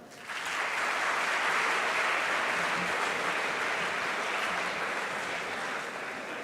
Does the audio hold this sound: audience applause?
yes